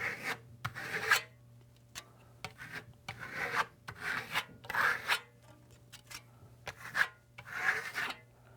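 A metal blade spreads and scrapes Venetian plaster across a wall in repeated rasping strokes, roughly a dozen sweeps of uneven length, close and clear over a low background hum, with no voices.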